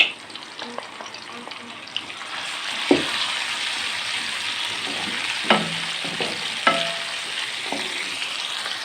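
A spoonful of ginger garlic paste hits a hot pan of oil for a spinach and fenugreek saag: steady, close sizzling and frying with occasional stirring clinks, and no talking.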